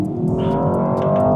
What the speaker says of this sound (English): tunnels are very, very exciting. All you need to do is tug along, sport mode engage, exhaust at its maximum.